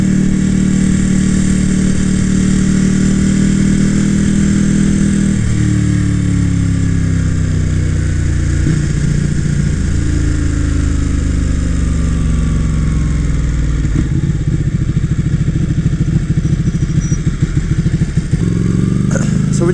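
A 2014 Ducati Panigale 1199R drones steadily and loudly while riding through a neighborhood, its engine pitch rising and falling with gear changes and throttle over continuous wind rumble.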